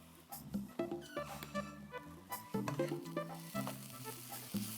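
Garam masala with cinnamon, cloves and cardamom sizzling in a pan for chicken mappas, with clattering, bumpy bursts as the spoon moves through, close and moderately loud, no talk.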